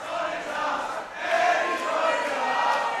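A wrestling crowd at an independent pro wrestling show cheers and shouts, a dense wash of massed voices swelling twice and staying loud and fairly close.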